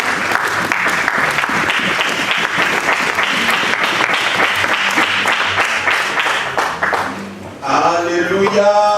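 A church congregation breaks into steady applause that fills most of the stretch, loud and close, then fades as a voice begins speaking.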